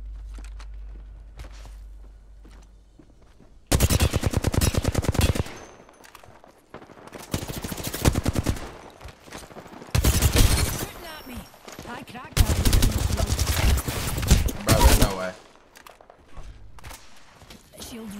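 Bursts of rapid gunfire from a squad-based shooter video game, several loud sustained volleys separated by brief gaps, with quieter footsteps and game sounds between them.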